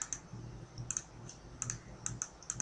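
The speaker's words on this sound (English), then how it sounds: "I'm going to type it like" Keys on a computer keyboard tapped in short, uneven bursts of quiet clicks, typing out a word in capital letters during a photo-editing session, close and faint with no talking.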